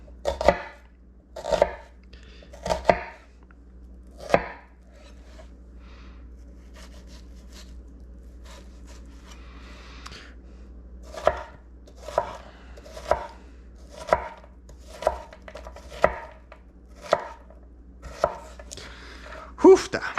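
Onion being chopped on a cutting board for Moroccan couscous, about fifteen sharp knife knocks in an uneven rhythm with a quiet pause midway, close and alone.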